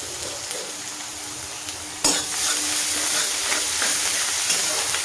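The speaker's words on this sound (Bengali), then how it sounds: "খুব ভালো করে ভাজা ভাজা হবে" Sliced onion and grated ginger fry in a pan for a pomfret dish, giving a loud, continuous sizzle and hiss that jumps sharply when the ginger is stirred in, then stays steady.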